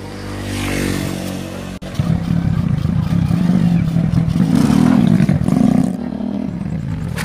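An old, worn-out motorcycle engine revs loudly and roughly close by, a continuous rattling drone that rises and falls in pitch over several seconds.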